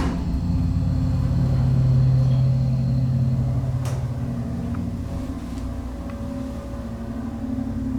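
Motor of a 1982 Dover traditional hydraulic elevator running, a steady loud low hum and rumble that persists throughout with faint clicks.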